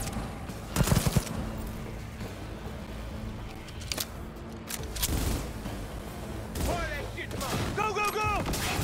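Gunfire from the Cyberpunk 2077 video game, a sharp volley of rapid shots near the start and scattered bursts later, over steady game background noise with a voice speaking briefly near the end.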